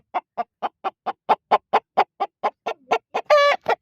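A rooster on a farm gives a rapid series of short, evenly spaced clucks, about sixteen in a row, ending with a longer harsh call, close and alone.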